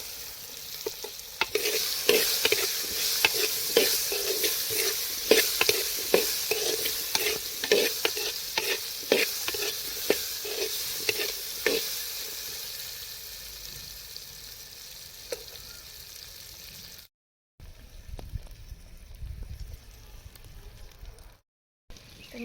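Pieces of raw guava with garlic-ginger paste frying in a pan for a village-style sabji, a soft continuous sizzle punctuated by rapid rhythmic scraping strokes of a spoon stirring, close by, then trailing off into quieter frying.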